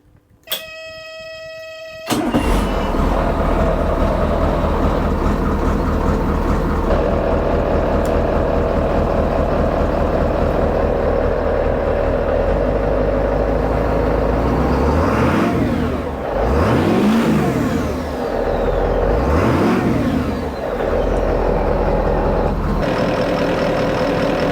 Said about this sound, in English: Okay, Si, start your engines.